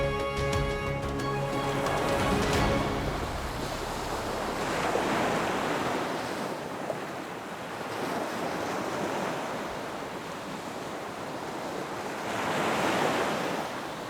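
Short, steep, confused seas about two meters high off the Scottish coast near Whiten Head roll and hiss continuously, mixed with steady wind rushing across the microphone.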